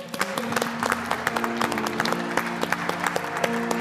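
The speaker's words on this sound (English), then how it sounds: "I see you clapping here and hear it" A church congregation claps during a Sunday worship service, a dense, lively patter of hands close by, with a sustained musical tone or hum running underneath the whole time.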